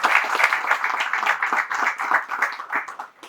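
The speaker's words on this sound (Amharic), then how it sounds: "ጭብጨባ ለክርስቲያን።" Clapping from an audience at a tribute event for a musician, brisk and fairly close, with uneven rhythm running the whole time.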